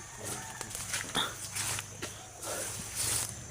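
A dog barks repeatedly during an outdoor walk, sharp bursts at irregular intervals over a steady low background hum, with footsteps and movement noise in between.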